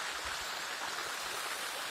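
Heavy rain drums steadily on the rain fly of an Ozark Trail 10' × 25' instant tent in Florida, a dense, continuous hiss with no breaks.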